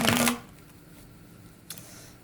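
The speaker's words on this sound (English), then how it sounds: "kind of a sloppy shuffle there" A deck of tarot cards is riffled in one brisk, close, crisp shuffle. After a pause comes a faint second flick of cards.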